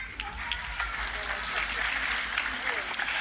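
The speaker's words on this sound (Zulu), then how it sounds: "sibanikeze ihlombe elikhulu" Applause from mourners at a funeral service, a steady hiss of clapping at moderate distance that continues through the whole stretch without pause.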